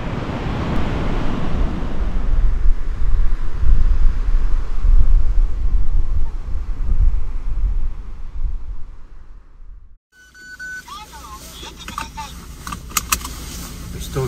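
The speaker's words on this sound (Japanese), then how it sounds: "すごい激しいね、 波が。" Strong waves and gusting wind at a crowded beach in Itoshima, Fukuoka, a loud continuous broadband roar that cuts off abruptly near the end, followed by quieter ambient sounds.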